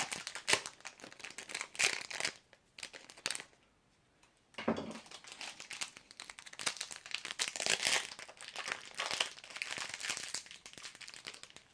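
A package shipped from Japan is cut and torn open up close, with loud bursts of crinkling plastic and paper rustle, a short quiet pause partway, then more handling and crumpling.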